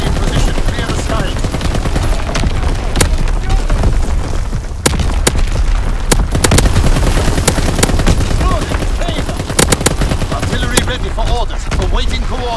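Artillery battery firing in the Call of Duty: WWII game's Shipment 1944 map during a domination match: dense, loud, continuous battle noise with sharp repeated cracks and booms, rapid gunfire and heavy thuds packed together across the whole stretch.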